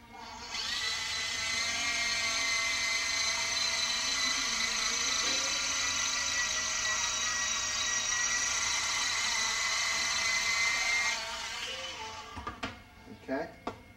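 A power drill whines steadily for about ten seconds as it bores a pilot hole through nylon, then stops, followed by a few light clicks and handling knocks.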